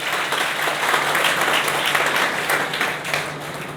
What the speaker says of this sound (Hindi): तो तालियां बजती रहनी चाहिए